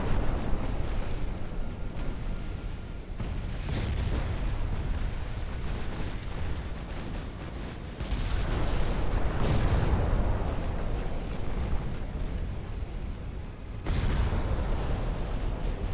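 Torpedo launches in the naval battle game Ultimate Admiral: Dreadnoughts, a dense rumbling barrage of deep booms and explosions rolling continuously, with sharper blasts near eight and fourteen seconds.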